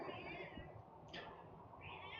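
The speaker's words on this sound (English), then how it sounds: "And apparently my cat just decided to start screaming at me." A pet cat meows loudly indoors, two drawn-out cries separated by a short pause over a low noisy background hum, fairly quiet overall.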